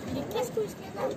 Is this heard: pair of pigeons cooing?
no